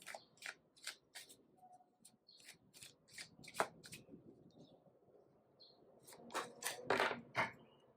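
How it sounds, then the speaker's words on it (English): A deck of oracle cards is shuffled close up and quietly, with a series of crisp riffling snaps and soft rubbing slides in an uneven rhythm, louder bursts near the end. "But we're going to shuffle and see."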